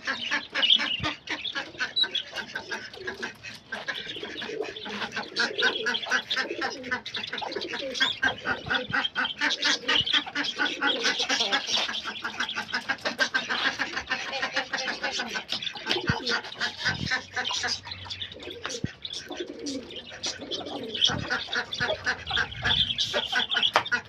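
Busy poultry yard with continuous clucking and squawking from several birds, mixed with quacking-like calls and occasional faint voices, steady throughout.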